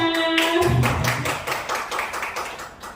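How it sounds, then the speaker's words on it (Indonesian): An audience of teachers at an event applauds, a burst of quick hand claps rising after a short electronic tone and then thinning into scattered claps over a few seconds. "Tepuk tangannya mana?"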